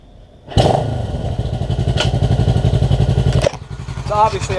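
A 1968 Honda CL450 motorcycle engine kicks into life and runs at a loud, close, steady idle with a rapid pulsing beat, then briefly revs near the end.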